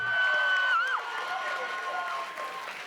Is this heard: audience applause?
yes